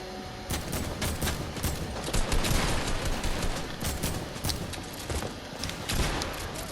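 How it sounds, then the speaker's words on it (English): Dense gunfire from a video game shootout with henchmen, rapid overlapping shots and bursts continuing throughout, loud and close, with no talking. "He's getting shot by henchmen and shooting henchmen right now."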